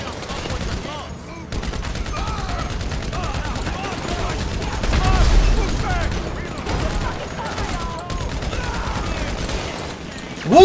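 Machine gun fire in GTA 5 Online on hard difficulty, rapid sustained bursts crackling almost continuously with a heavier burst in the middle, loud and close, with a voice talking faintly underneath at times.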